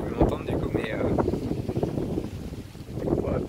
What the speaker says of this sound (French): mais par contre il y a pas mal de vent.